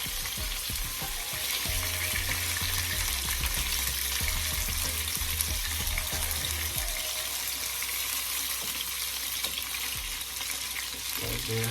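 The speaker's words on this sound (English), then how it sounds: "Now we're going to turn them again on the next side and fry them up for the next 5 minutes." Chicken breasts sizzle and fry steadily in a pan, a continuous crackling hiss with occasional stirring and faint water or sink sounds in the background.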